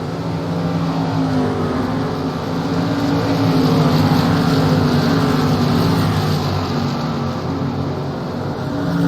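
Modified race cars lap a road course at a tour event. Their engines blend into one loud, steady roar that holds without a break.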